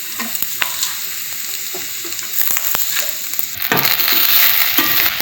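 Chicken chaps cooking in a pan, with a steady close sizzle of frying broken by scraping stirs and clacks of a utensil, growing louder and busier toward the end; no one speaks.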